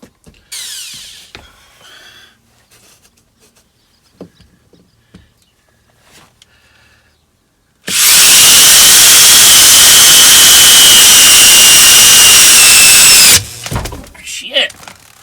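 Power drill driving a screw into framing for a bus bathroom build, a loud sustained high-torque whir lasting several seconds, with quieter rustling, handling sounds and a voice before and after.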